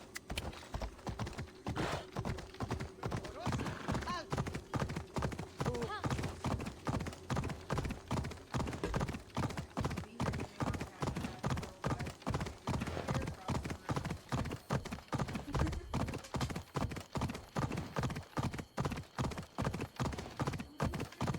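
A horse gallops in the Assassin's Creed video game, its rapid, even hoofbeats drumming continuously and up close for the whole stretch.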